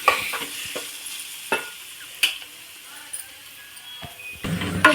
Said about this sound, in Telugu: ఇప్పుడు మనం కొద్దిగా కలుపుకుందాం